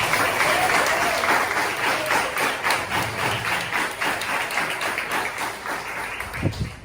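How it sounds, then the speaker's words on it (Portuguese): Congregation applauding during a church sermon, a strong, sustained burst of many clapping hands that stays full throughout, with a couple of thumps near the end. "dê um aplauso ao Senhor por isso"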